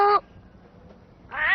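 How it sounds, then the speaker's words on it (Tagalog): Two distinct cat meows, one short cry at the start and a longer rising one at the end, separated by a quiet pause in an indoor comedy scene. "Yung pusa po!"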